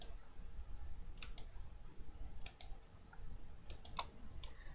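Faint, sparse computer mouse clicks, single and doubled taps scattered over a steady low background hum, with no talk.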